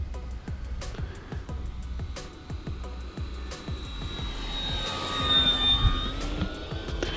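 An E-Flite T-28 Trojan RC airplane with retractable landing gear makes a pass, its electric motor whine building and sweeping past over steady background noise.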